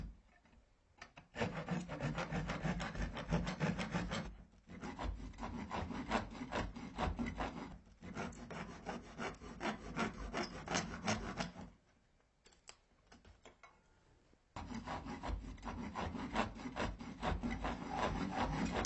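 Handsaw cutting back and forth through a wooden board set in a plaster wall beside a fireplace insert opening, steady rasping strokes in long runs with short pauses between, close and fairly loud.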